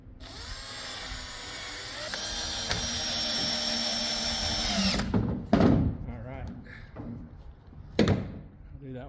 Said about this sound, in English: I'm going to pre-drill the holes because there's a knot here